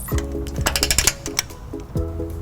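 A torque wrench with a 19mm socket on a 5-inch extension tightens trailer hitch bolts on a 2010 Lexus GX 460, giving rapid close ratcheting clicks in quick bursts with metallic rattles between strokes.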